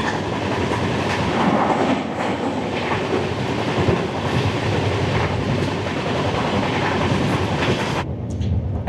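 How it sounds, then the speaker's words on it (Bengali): A Garib Rath Express train runs fast on rails near Berhampore bypass, a loud steady rumble and rattle of wheels and carriages with clickety-clack, no voices. "একশো 3 অব্দি উঠে গেল ট্রেনের স্পিড।"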